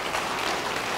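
Church congregation applauding during a sermon, a dense steady wash of clapping that fills the whole moment, close and even with no voices over it.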